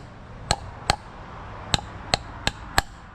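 A hammer taps tuna tube bait rig pieces together in six sharp, close knocks with uneven spacing, against a quiet background.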